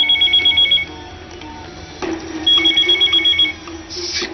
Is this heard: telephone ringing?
yes